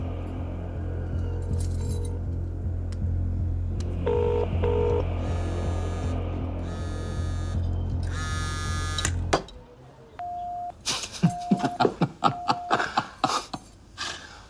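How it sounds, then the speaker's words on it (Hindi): Electronic dialing tones, a rapid series of beeps over a steady hum, followed by sharp clicks and short repeated tones as the call connects. "चल फोन लगा उसे"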